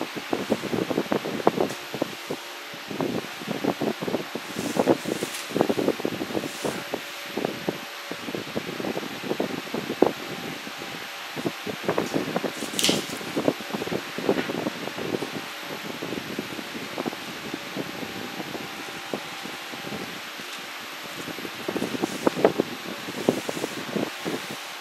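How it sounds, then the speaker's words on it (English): A Metabo 18-volt cordless metal fan runs on high speed, a steady close airy whoosh with fluttering, rustly buffeting throughout, no voices. "Let me show you the fan on, okay? Okay, this is a high speed."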